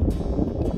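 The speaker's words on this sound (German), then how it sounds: "ein ganz starker Wind zwischendurch, das wehrt mich fast um" Strong gusty wind buffeting the microphone on a mountain ridge above the Rhone valley, a dense, loud, continuous roar for under a second.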